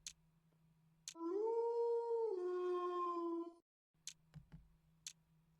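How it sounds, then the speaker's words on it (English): A long, sharp, high-pitched howl in the Tsukihime visual novel rises, holds for over two seconds and then cuts off, with faint clicks before and after it. "Something is howling. It's too sharp and high-pitched to be a stray dog."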